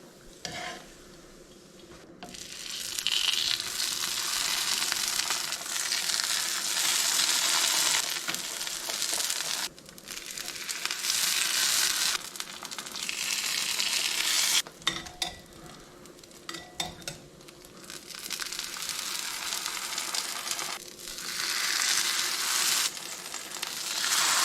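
Birria tacos crisping in a hot pan, a steady broadband sizzle of frying that holds for long stretches with brief dips, close and fairly loud, with occasional utensil scrapes.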